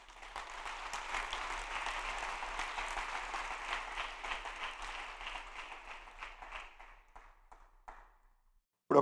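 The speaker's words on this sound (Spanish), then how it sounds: "Denle un aplauso al Señor." A church congregation applauds during a sermon, a broad, sustained wash of clapping that builds, holds steady for several seconds, then thins out into scattered claps and fades to near silence.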